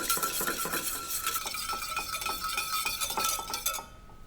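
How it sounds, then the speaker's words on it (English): A whisk clinks rapidly against a bowl, beating olive oil into a vinaigrette emulsion, with steady rhythmic metallic taps close by and no voices. "And just whisk it in."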